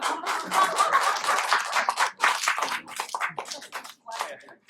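An audience applauds at a student flute concert during a Christmas recital award presentation, a dense patter of clapping that swells then thins out into scattered claps, with voices mixed in.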